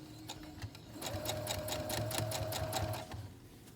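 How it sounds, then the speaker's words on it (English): A sewing machine runs a seam across a fabric mask, starting with a brief back-stitch burst, then a steady close rattling stitch for about two seconds before stopping. "I'm going to sew all the way across. Now in this case I am going to back up here at the beginning to lock my stitch line"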